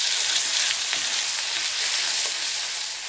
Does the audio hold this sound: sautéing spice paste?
yes